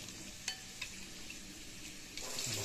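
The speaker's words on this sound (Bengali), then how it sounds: "আলুটা আমার লাল করে ভাজা হয়ে গেছে" Potatoes frying in oil in a pan give a continuous moderate sizzle with a few sharp clinks of a utensil, growing louder near the end.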